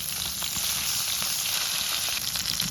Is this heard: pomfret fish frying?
yes